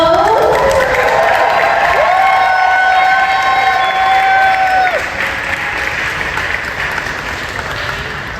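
Audience cheering and applause at the Sonic Expo 2024 cosplay competition, a loud, dense crowd roar with whoops and steady clapping that holds for several seconds, then thins slightly toward the end while a voice carries over it.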